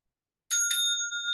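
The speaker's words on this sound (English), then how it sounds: "The Inkin, I don't know, when is it, what is it used? It's used to tell you when to bow." A small Zen inkin bell, used in the zendo to signal bowing, is struck once after silence, giving a clear bright ring with steady sustained overtones that hold and slowly fade, close and alone.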